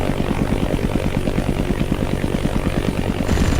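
A helicopter flying overhead in the war game ArmA: Armed Assault, its rotor a loud, close, rapid and steady thumping drone that continues without a break and with no talk over it.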